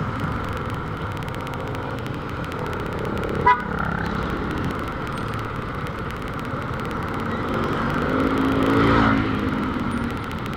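Busy street traffic with engines rumbling and passing vehicles, broken by a short sharp car horn toot and later a swelling vehicle pass, moderately close and continuous.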